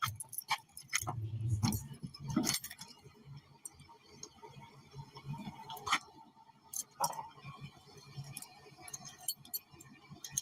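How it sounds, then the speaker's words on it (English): Car keys jangle and clink in irregular bursts close by, with scattered metallic ticks and handling noise over a low background rumble; no clear talking. "Let me get the car keys."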